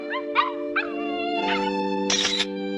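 A cartoon dog gives several short yelps and whiny barks, fairly close, over a steady droning hum in the background.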